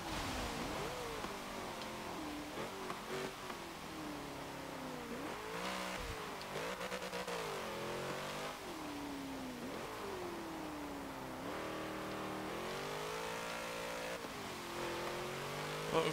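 A twin-turbocharged 1963 Volkswagen Beetle in Forza Motorsport 7 drones and revs steadily through a lap, its pitch rising and falling with gear shifts, heard alone at moderate loudness.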